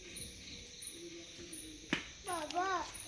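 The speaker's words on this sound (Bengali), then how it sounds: "কি অসাধারণ লাগছে না ঝিঝির আওয়াজটা।" Crickets chirp at a resort in Jhargram in the dark, a steady high trill running throughout with a few louder nearby calls and faint background sounds.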